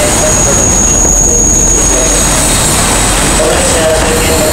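A local train pulling into platform 4 at Matsusaka station in Japan, heard as a loud, continuous rumble of the rolling train with a high squeal of wheels running through it.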